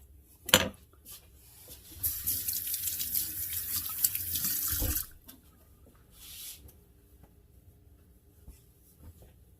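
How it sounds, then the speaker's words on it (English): A tap runs for about three seconds with a bright splashing hiss, framed by a few soft clunks and a short trickle afterward; nearby and fairly quiet. "I'm going to put a little bit more water on this."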